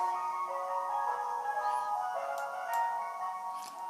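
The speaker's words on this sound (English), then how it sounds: "We've got an ice cream van." Ice cream van chime played as a sound effect through a model railway layout's sound system, a steady tinkling melody with faint ticking clicks, heard alone without talk.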